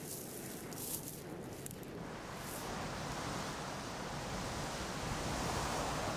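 Wind rising ahead of rain, a steady broadband roar that swells slightly toward the end, close and continuous with no voices.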